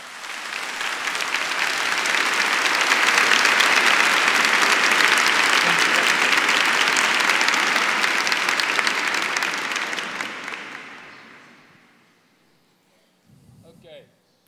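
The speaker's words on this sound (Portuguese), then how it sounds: "Então eu quero que você dê as boas-vindas para ele com uma salva de palmas." Church audience giving a loud, sustained round of applause to welcome a guest preacher. The clapping builds, holds strong for about ten seconds and then fades out, and a voice follows briefly at the end.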